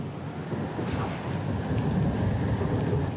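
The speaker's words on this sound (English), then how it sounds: "The storm's pretty loud." A thunderstorm rages in the fantasy role-playing game Pillars of Eternity II: Deadfire, with loud rolling thunder over a dense wash of rain and gusting wind that swells slightly toward the end.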